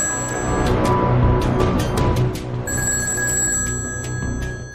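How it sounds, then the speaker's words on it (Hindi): A telephone bell rings steadily in repeated bright trills, fairly close and clear, with no talking over it. "क्रेमलिन में बजी फोन की एक घंटी ने खतरे की घंटी बजा दी।"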